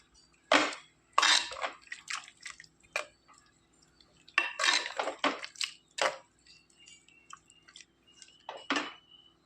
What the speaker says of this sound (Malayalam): ഇതിലേക്ക് നമ്മൾ ഈ അരച്ചു കൊണ്ടുവന്ന ഈ തേങ്ങാക്കൂട്ട് ഇതിലേക്ക് ചേർത്ത് കൊടുക്കാം. നന്നായിട്ടൊന്ന് ഇളക്കി യോജിപ്പിക്കുക